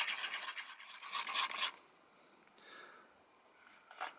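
Pastel stick rubbed against a mesh to grind it into powder, a close, faint scratchy rasping for about a second and a half, then quieter scraping strokes, no talk.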